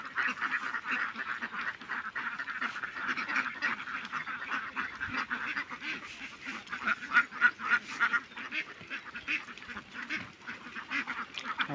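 A flock of farm ducks climbs out of the water one by one, quacking and honking busily and continuously at close range, with no talk over them.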